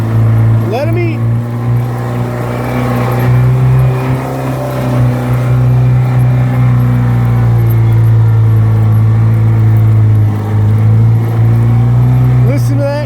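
A 1969 Land Rover Series II four-cylinder engine drones steadily as the vehicle pushes through deepening snow. The engine note is loud and close and rises slightly at times, with a voice talking over it.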